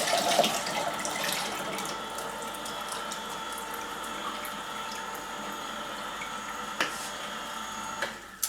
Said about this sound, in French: on remplit à nouveau d'eau et on laisse cuve pleine